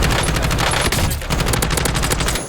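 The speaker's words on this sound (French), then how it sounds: "Je me fais tirer dessus." Rapid automatic gunfire in a first-person shooter video game, loud sustained bursts of machine-gun fire filling the whole moment with dense overlapping shots.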